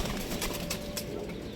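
Pigeons being flown and trained, with a faint outdoor coo and a few light flutters and taps in the background, distant and quiet over a steady low ambient hum.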